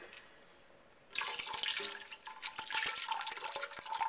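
Liquid pours steadily into a pot of French onion soup, about six cups of broth, beginning after a second of quiet and continuing as a close, splashy stream.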